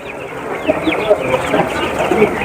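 Broiler chicks, fourteen days old, at a poultry market in Kokand: a dense, loud chorus of high peeping and cheeping from many birds at once, with talk mixed in.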